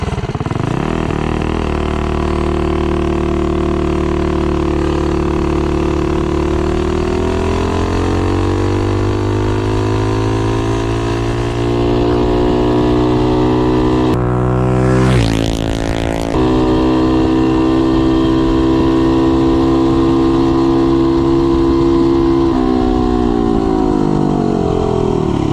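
A Mega Moto 80 minibike running a 4.78 gear ratio on a top-speed run. The engine drones loudly and steadily, rising in pitch as it accelerates, dips abruptly midway, then climbs and holds a high whine.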